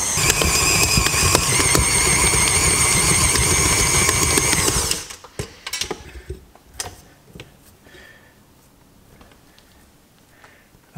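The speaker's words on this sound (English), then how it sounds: "I thoroughly recommend the use of a dough hook on a strong mixer like this one." A strong stand mixer working sourdough with a dough hook gives a loud, steady motor whir with rattling for about five seconds, then stops and leaves faint clinks and handling noises.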